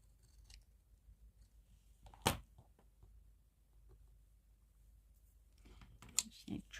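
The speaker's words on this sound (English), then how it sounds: "Just need to trim a bit off the bottom as well." Scissors trim printed digital papers for die-cut crafting. Two crisp, brief snips stand out in a quiet room, with faint voice sounds in the background.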